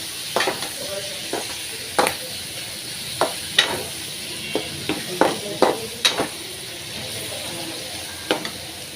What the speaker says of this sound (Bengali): সবজিগুলো দেওয়ার পরে ডিমের সাথে ভালো মতো এটাকে আমি একটু কষিয়ে নিব।